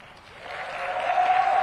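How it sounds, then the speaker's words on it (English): Applause and cheering from a rehearsing audience in a conference hall, swelling from a soft start into a steady, dense wash of clapping that grows louder toward the end. "We rehearsed very loud applause and cheering,"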